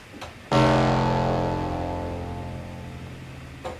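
A single sustained synth bass note with a gritty, overdriven filter, starting abruptly and slowly decaying over a few seconds, with a short blip at the end.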